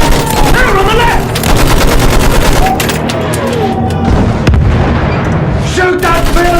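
Battlefield 1 campaign battle with dense, continuous gunfire and rattling machine-gun bursts. Sharp shots are packed tightly over a steady roar, while voices shout loudly throughout the fighting.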